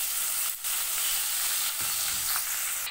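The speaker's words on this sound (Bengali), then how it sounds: "কড়াইতে আমি দিয়ে দিয়েছি কালো জিরে আর কেটে রাখা দুটো পেঁয়াজ।" Onions and nigella seeds fry in a wok that has just been used for frying fish, giving a loud, continuous sizzle with a few stirring knocks and no talking.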